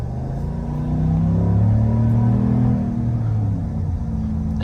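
A 2025 Chevrolet Silverado 1500 High Country pickup accelerates at half throttle out of a corner, a steady, moderately loud engine rumble heard from the cabin that swells slightly, with no talking.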